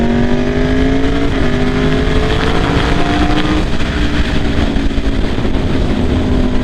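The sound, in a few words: 2016 Aprilia RSV4 RF motorcycle engine and aftermarket exhaust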